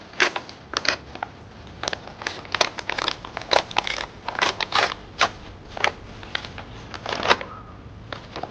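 Plastic packaging bag crinkles in bursts as it is opened and handled up close, with sharp rustles and pauses over about eight seconds.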